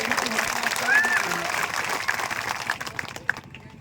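Crowd at a public speech gathering applauds, a moderate wash of clapping that swells early and gradually thins out, with a voice briefly audible over it.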